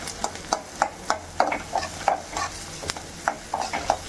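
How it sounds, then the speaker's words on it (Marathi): Sliced onion fries in a pan for a street-style veg frankie filling, as a spoon scrapes and stirs in steady, rhythmic strokes over a soft sizzle, close and clear with no voices. "कांद्याला मस्त असा फ्राय करून घ्यायचं आहे"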